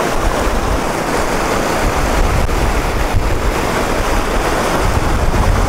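A cold, fast-running stream at Millstream Gardens in April rushes in a steady, loud, close roar of water, continuous throughout with no voices.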